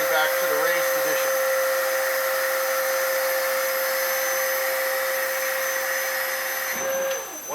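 A Krieger MMU 500 triple-motion vacuum mixer tilts hydraulically back up to its raised position, giving a loud, steady whine with a constant tonal hum that holds throughout and drops off briefly near the end.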